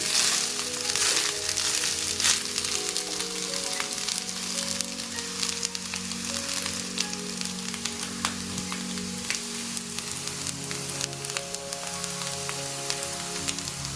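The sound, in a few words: stirring carrot rice frying in pan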